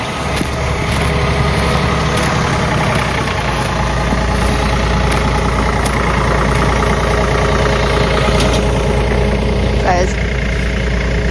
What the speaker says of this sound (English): My dad's just bringing the tractor so we could push more into the center.